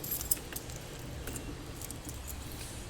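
A set of door keys for deadbolt and main locks jangles in light, scattered metallic clinks and rattles. The jingles are spread unevenly over a few seconds against steady low background noise, with no talking.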